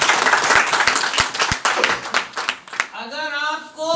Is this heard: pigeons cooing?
no